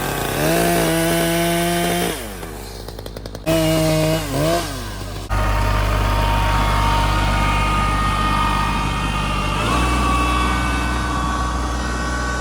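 During a tree removal, a chainsaw buzzes loudly at close range in revving bursts, then a steady engine roar from a tractor carries on beneath it through the rest of the stretch.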